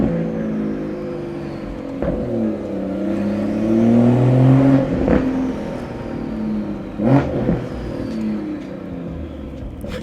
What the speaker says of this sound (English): The turbo noise is wild.